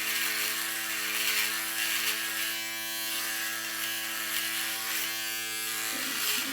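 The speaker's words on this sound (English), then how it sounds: "cheap and inexpensive electric shaver, and I'm just kind of stretching the skin" Inexpensive electric shaver buzzing steadily against skin while shaving, a continuous close motor hum with a rich harmonic whine that shifts slightly in pitch as it is pressed and moved, with no talk.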